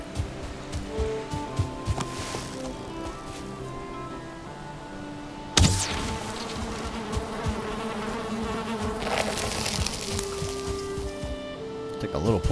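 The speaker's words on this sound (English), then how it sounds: "Poison from those bees." Bees buzz steadily in the Valheim video game, a droning hum heard under game music and other effects, with a sharp impact partway through and a person talking over it.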